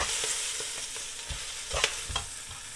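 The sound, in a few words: kale greens and garlic frying in hot oil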